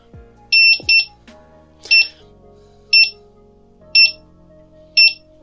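A quick double beep, then single high beeps at steady one-second intervals over a faint low electronic hum as a Begode T4 V2 electric unicycle powers on.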